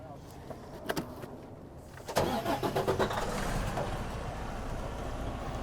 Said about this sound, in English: go ahead and start your truck